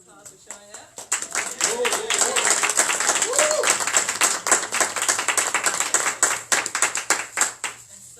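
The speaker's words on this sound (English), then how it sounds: "give yourselves a round of applause for showing up" Sustained applause from a crowd, dense clapping filling the space for several seconds after a brief quiet start, with faint voices underneath.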